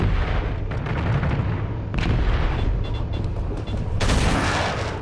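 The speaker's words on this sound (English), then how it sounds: "Torpedoes away. There goes our torpedoes." Torpedo launches and heavy weapon blasts in the space combat game Angels Fall First, a dense continuous barrage of booming, crackling detonations with a sharp bright burst near the end.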